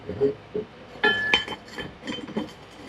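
Metal parts of a go-kart brake rotor clink and knock as they are fitted onto an axle, giving several close, sharp metallic taps and a brief ringing tone, alone with no talk.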